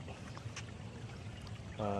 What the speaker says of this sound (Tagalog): Daanan to ng tubig galing sa subdivision.